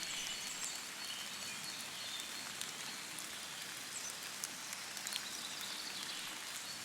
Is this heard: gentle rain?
yes